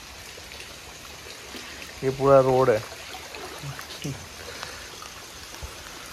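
Floodwater flows along a road in Kosamba during heavy rain at night, a steady low rush and trickle under the surface noise, with someone speaking briefly over it.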